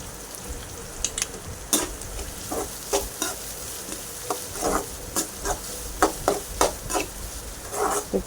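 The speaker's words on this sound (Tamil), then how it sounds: "இப்போ நல்லா வதக்கிட்டே இருக்கணும். நல்லா பொன்னிறமாக ஆகிற வரைக்கும் வெங்காயத்தை வதக்கிக்கிட்டே இருங்க." Chopped onions sautéing in a pan for paper chicken, with a steady close sizzle and a run of sharp spatula stirs and scrapes against the pan every second or so, no talking.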